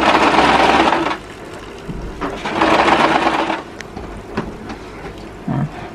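A sewing machine stitches a plain, unpatterned fabric collar in two loud running bursts, then goes quiet with only faint handling clicks and a brief low thump near the end.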